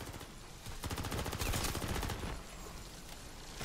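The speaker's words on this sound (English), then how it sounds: "So let's kind of aim high here with our pistol." Pistol gunfire in the Call of Duty MW3 Zombies video game: a rapid run of repeated shots crackles in a dense burst, loud and steady over a noisy game background.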